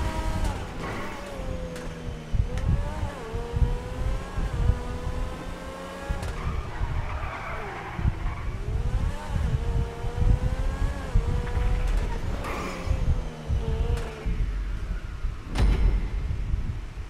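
A car driving in a video game revs and shifts constantly, with the engine pitch rising and falling, occasional tire squeals and impacts, loud and continuous throughout.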